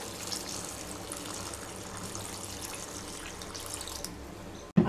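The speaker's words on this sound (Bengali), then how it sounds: "এবার পরিমাণ মতো জল দিয়ে দেব।" Water is poured into a pot of chicken curry with new potatoes, giving a steady rushing hiss throughout that ends in a brief clunk.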